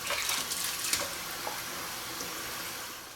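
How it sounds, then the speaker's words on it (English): Hands rinsed under a running kitchen sink tap after handling raw chicken cutlets: a steady, close hiss of flowing water with small splashy bursts, continuous and alone without talk. "Rinse off my hands."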